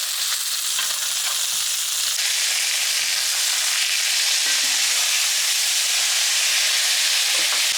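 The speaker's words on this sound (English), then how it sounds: "and then we're just going to baste the steak." A steak being basted in a pan gives a loud, continuous close-up sizzle and hiss, with faint scrapes and knocks now and then and no talking.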